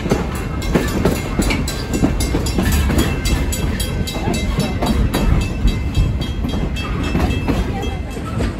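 A long train rolls past close by, its wheels clacking in a steady, repeating rhythm over the rails with a constant heavy rumble.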